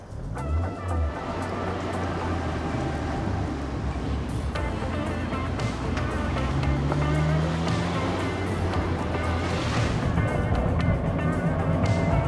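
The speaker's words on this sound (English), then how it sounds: "that's the throwout bearing in the transmission" A steady mechanical whine and rumble from a running Honda Fit's 1.5-liter four-cylinder engine and transmission with a worn throwout bearing, continuous and fairly loud, with a faint grinding undertone throughout.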